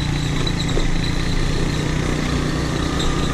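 A scooter engine runs steadily while riding over a very muddy, unpaved road under construction in Guimaras, a continuous loud drone with no breaks.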